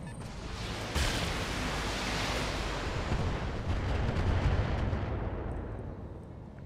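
Mech weapons fire slamming into a Victor mech in the BattleTech video game, a sudden heavy blast that becomes a sustained, dense roar of impacts and explosions, loud and close, fading near the end with no voices.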